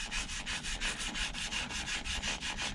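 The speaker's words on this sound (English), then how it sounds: "This is 600 grit. Just smoothing it down." Rhythmic back-and-forth sanding of a steering wheel with fine 600 grit sandpaper, an even raspy rubbing repeated in quick regular strokes, close and fairly quiet with no other sounds.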